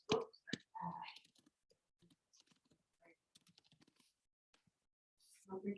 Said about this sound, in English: So hit enter to add a new line on the right side of the keyboard.